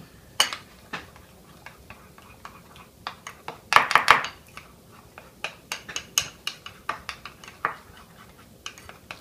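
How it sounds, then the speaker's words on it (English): A spoon clinks and scrapes against a bowl while mixing green cookie icing for Italian cookies. The light taps come in an irregular rhythm, with one brief louder clatter near the middle. "Let me just grab myself another spoon to mix the green."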